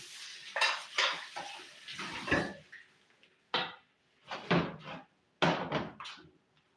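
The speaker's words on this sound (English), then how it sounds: "And what I'm doing right now, I'm scraping the plantain." Unripe plantain being scraped with a metal utensil, making several separate rasping, clattering bursts split by short silences, close by.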